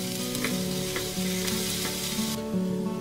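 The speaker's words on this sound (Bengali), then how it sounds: "পেঁয়াজ আর কাঁচা লঙ্কা এখন খুব ভালো করে ভেজে নেব" Chopped onion and green chilli sizzling in hot mustard oil in a pan, a steady close frying hiss with a few soft stirring scrapes, and no voices.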